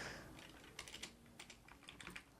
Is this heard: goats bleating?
no